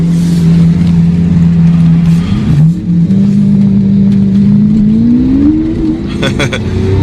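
A Lamborghini Aventador engine, running cold, hums steadily up close, dips briefly, then climbs in pitch as it accelerates, with faint knocks and rattles near the end.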